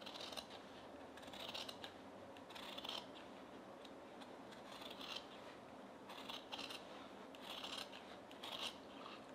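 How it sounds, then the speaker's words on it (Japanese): Scissors cut through collar fabric at a sewing table, a run of quiet close snips repeating every second or so with no talking. "今回は両方切るようにしていきます。"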